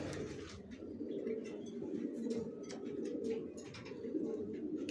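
A racer pigeon, a Johnson-line bird, coos in soft, repeated low calls up close, with light rustling and scattered higher chirps over a quiet background.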